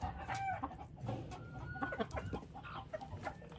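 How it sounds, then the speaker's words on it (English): Chickens cluck and chatter softly nearby, with scattered short calls overlapping in a quiet yard. "the hens always get it first, and the roosters always eat last"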